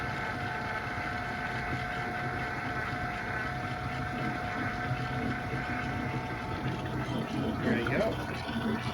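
Transmission fluid is pumped through a dipstick tube by a flush machine, a steady low mechanical hum with a liquid gurgle, faint and continuous, with a voice talking over it.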